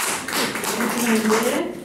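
Short burst of audience clapping for a university professor arriving at a lecture, brief and fairly close, with a voice speaking over it.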